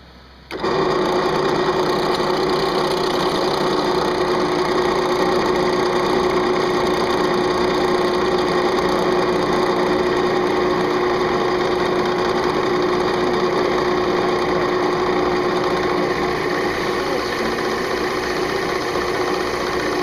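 A drill on a SolarDozer angle driller bores steadily into metal, giving a continuous loud whirring grind that starts abruptly and holds without pause for about twenty seconds, with no talking.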